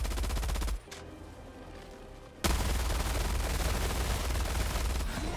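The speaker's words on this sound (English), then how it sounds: "Heavy machine gun just got nerfed, in my opinion." A heavy machine gun firing at 950 rounds per minute in the video game Helldivers 2, loud rapid bursts of fire with a short lull between them, then a sustained stream of shots.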